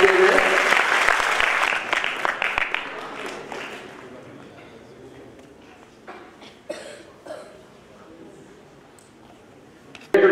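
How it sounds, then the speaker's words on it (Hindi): Loud applause welcoming a guest onto the stage at the Dev Samaj Mahotsav, strong crowd clapping that fades over several seconds into scattered claps, coughs and quiet room noise. "जोरदार तालियों से उनका स्वागत किया जाए"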